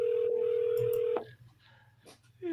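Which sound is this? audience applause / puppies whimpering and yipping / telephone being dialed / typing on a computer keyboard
telephone being dialed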